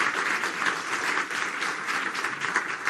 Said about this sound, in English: I want to give a big round of applause to Alan.